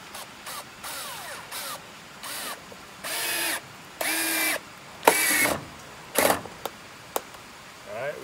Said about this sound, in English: Alright, we got one screw there.